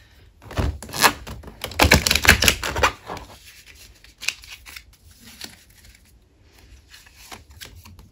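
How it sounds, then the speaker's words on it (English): Tarot cards are shuffled and flipped during a reading, a dense riffling burst up close followed by scattered softer card snaps and taps, with no speech. "These cards are flipping all over the place as well."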